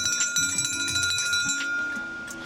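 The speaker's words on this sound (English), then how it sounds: "I think it's still part of the experience to ring the bear bell." A bear bell rung while hiking Japan's Nakasendo trail, giving bright, shimmering metallic jingles with a ringing tone that fades out toward the end.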